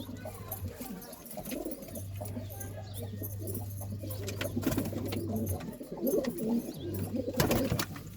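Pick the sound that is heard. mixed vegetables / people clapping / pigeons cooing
pigeons cooing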